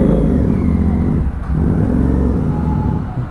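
A motorcycle being ridden in a street race between a GT 650 and a Duke 390 gives a loud, close engine roar that dips briefly mid-clip and then builds again, with no voices.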